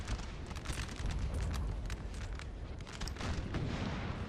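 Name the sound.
6-pounder cannon artillery firing in video game Napoleon Total War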